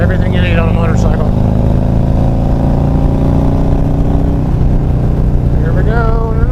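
A motorcycle with a Screamin Eagle Stage 4 engine rides along a winding hilly road, its loud steady engine drone rising and falling close by, while a rider talks over it.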